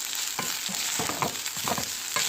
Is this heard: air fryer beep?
no